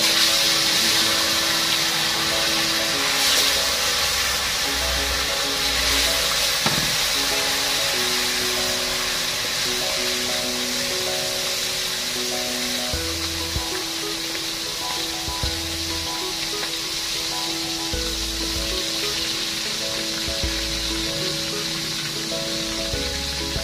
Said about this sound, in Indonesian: Kita goreng dulu ya teman-teman ya, iwak wadi papuyo.